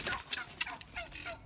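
Turkeys gobble in a rapid warbling chorus at close range, several birds overlapping in quick repeated bursts with some background noise.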